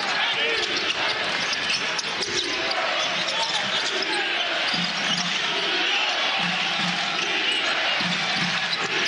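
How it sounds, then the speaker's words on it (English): An Oklahoma Sooners home crowd at a college basketball game against Houston roars continuously and loudly at the opening tip, a dense wall of cheering with a commentator's voice running underneath. "The Sooners crowd on their feet until their team makes the first bucket"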